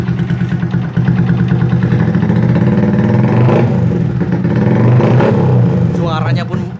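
A modified motorcycle engine fitted with a BRT racing camshaft runs loud and close, rumbling with a lumpy rhythm and building into repeated revs, with a voice talking over it.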